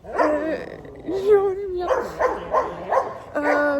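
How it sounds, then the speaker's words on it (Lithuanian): A small dog barks several times in quick yips at close range, mixed in with people talking nearby. "Žiūrėk, ten šuniukas."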